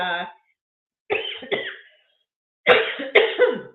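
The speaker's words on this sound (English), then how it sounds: "I'm gonna go take care of this cough first" A few close, harsh coughs in short bursts, separated by brief silences.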